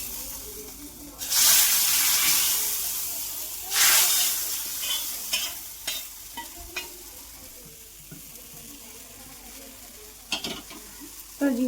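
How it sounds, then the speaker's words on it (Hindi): Whole spices for a kadhi tadka hit hot oil with two loud bursts of sizzling, then the crackle settles into softer spitting and stirring clinks, close by with no talk. "कढ़ी में तड़का लगा के कर दूंगी तैयार अपनी कढ़ी"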